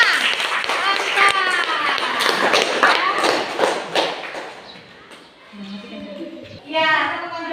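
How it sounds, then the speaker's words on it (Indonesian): Classroom of fifth-grade children clapping together in a burst of applause, loud and dense at first, then fading as children's voices rise and talk continues over it. "Tepuk tangan untuk kita semua."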